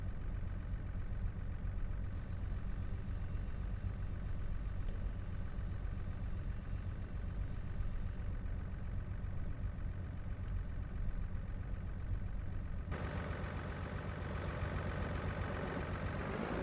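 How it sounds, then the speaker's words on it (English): A farm tractor engine runs steadily at close range while preparing a new field for ploughing, a continuous low rumble and idle throughout, shifting slightly in tone near the end. "Hopefully the tractor should be able to handle it."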